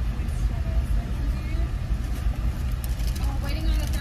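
Inside a moving car, deep low road and engine rumble fills the cabin steadily while people talk over it throughout.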